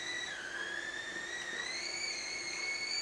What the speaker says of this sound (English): that's the whistling kettle